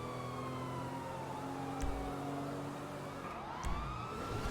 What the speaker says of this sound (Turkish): Bir de her biri farklı şekilde siren açmış